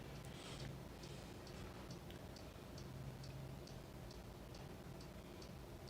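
A cuckoo clock ticks steadily indoors, its faint, evenly spaced ticks running through the whole stretch over a low background hum.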